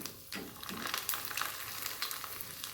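Boondi batter dropping through a strainer into hot oil, giving a soft, steady bubbling sizzle with a quick burst as the batter hits the oil, quiet and close.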